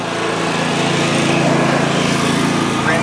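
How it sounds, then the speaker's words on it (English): Riding lawn mowers drive along a street, their small engines giving a loud, steady, unbroken drone close by throughout. "Random guys driving on the street with lawnmowers, awesome."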